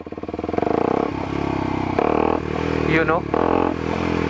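Kawasaki Ninja 250SL motorcycle engine pulling hard under acceleration, a loud, steady, close harmonic drone that rises in pitch through a gear change, with a brief spoken voice over it.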